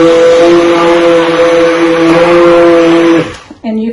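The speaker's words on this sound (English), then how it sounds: "I changed my blender, one that doesn't make quite as much" A blender runs loud and steady, whirring as it mixes homemade lotion, with a strong sustained motor hum that cuts off abruptly near the end, leaving a brief quieter moment.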